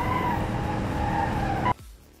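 Tires skid loudly through a drift in BeamNG, a sustained squealing screech with engine drone beneath that cuts off abruptly near the end.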